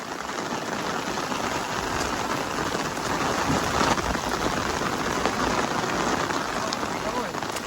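Heavy rain pours steadily on a hiking trail on the Long Trail near Mansfield in Vermont, a dense, continuous hiss with close spatter as from drops striking an umbrella.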